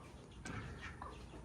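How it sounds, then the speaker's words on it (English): Free-ranging chickens at an animal sanctuary cluck softly in short, scattered calls, faint and close against a quiet outdoor background. "We like free-ranging chickens."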